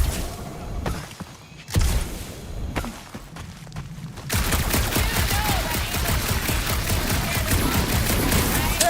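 Guns fire in Guardians of the Galaxy gameplay: a few scattered shots and thuds with a heavy boom at first, then a dense, loud sustained burst of rapid automatic fire.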